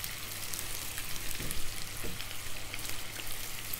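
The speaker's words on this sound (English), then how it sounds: "so just give that a nice just stir, scraping it all down" Sloppy Joe sauce is stirred and scraped around a hot pan, steady sizzling with soft scraping strokes, close and fairly loud, no voices.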